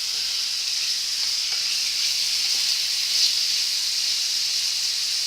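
Cube steak sizzles loudly in a hot skillet, a close, steady, even frying hiss that fills the whole stretch with no break and no voices.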